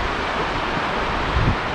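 A very wide stretch of river in the White Goat Wilderness rushes with a continuous broadband wash, steady and fairly close, blended with wind noise and no talking.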